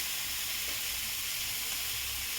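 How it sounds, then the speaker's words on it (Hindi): Egg meets a hot pan of fried onion and tomato over a high flame, producing an even, close, hissing sizzle throughout with no talking. "इसमें मैं अंडा को डाल रही हूँ।"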